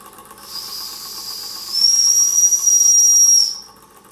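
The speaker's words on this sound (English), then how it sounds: "The whistle was a little bit loose too" On a Weeden 14 steam engine with a loose whistle, a hissing rush of steam swells into a single high, sustained whistle lasting a couple of seconds, then fades back to a hiss and stops.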